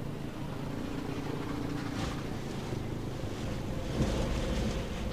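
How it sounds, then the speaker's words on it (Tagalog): Heavy rain with gusty wind in Zambales, a steady broadband roar of downpour and wind buffeting close to the microphone throughout, with a stronger gust swelling near the end. "malakas ang ulan na may kasamang pabugso-bugsong hangin ang nararanasan ngayon ng mga taga-Zambales"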